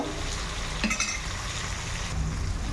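Chopped tomatoes sizzle and fry with onions in a pan as a spoon stirs them, giving a steady close crackle with a brief scraping clatter of the utensil partway through.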